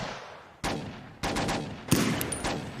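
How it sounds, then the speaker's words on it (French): Gunfire erupts in a film scene where police are being shot at: several sharp, loud bursts spaced about half a second apart, each trailing into echoing rattle, with no talk. "je crois que c'est des flics sur qui on tire"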